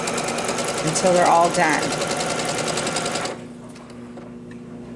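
A sewing machine stitches quilt pieces for a table topper in a fast, steady mechanical chatter close by, with someone talking over it before the machine stops and only faint room sound remains.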